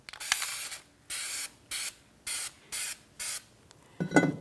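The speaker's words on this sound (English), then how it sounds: "So I just want to give it a good spray on this." A steady series of six or seven anti-seize aerosol spray bursts in an even rhythm during rear brake work on a 2004-2009 Mazda 3, each a sharp hiss, followed by a faint clatter at the end.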